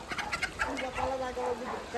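Chickens and turkeys at a farm section make scattered clucks and gobbling calls over a busy background, with a person talking nearby.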